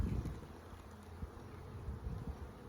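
A dense hum of many bees buzzing close around a hive fills the air continuously, steady and soft with no voices.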